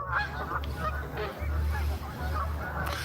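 Geese honk repeatedly outdoors over a constant low rumble, with the calls close and loud and coming in uneven bursts through the whole stretch.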